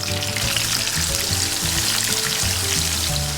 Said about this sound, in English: So let's toss in the potatoes, which have been marinated for now around 20 odd minutes.